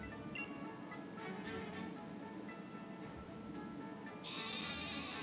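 A sheep bleats in the Pokémon Sword video game, a soft bleat over a busy bed of game music and ambience, faint and brief.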